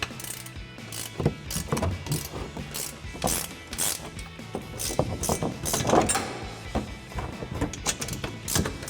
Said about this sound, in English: We're gonna grab our 17mm ratcheting wrench and tighten them down.